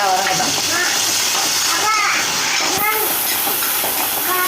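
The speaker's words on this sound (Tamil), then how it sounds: "கட் பண்ண வெங்காயத்தை போடுறோம். வெங்காயமும் பச்சை மிளகாயும் போடுறோம்." Sliced onions and green chillies sauté in a pan for a mutton gravy, giving a steady, loud hissing sizzle throughout with faint clatter and background voices.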